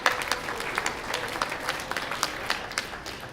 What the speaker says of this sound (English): Give her a great round of applause, please.